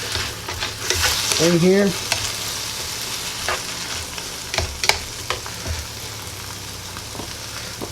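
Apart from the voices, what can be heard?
stirring food frying in a pan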